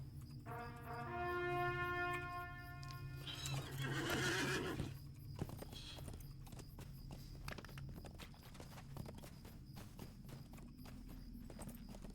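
Horse in the fantasy online game LOTRO (Lord of the Rings Online) whinnies loudly near the start, then its hooves clip-clop at a steady walking pace over light ambient wind.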